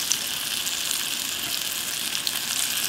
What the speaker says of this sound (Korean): 이 밀가루를 묻혔기 때문에 노릇노릇하게 오래 튀겨야 되기 때문에 중약불에서 해야 돼